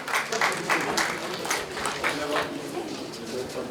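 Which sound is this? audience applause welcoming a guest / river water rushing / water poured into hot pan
audience applause welcoming a guest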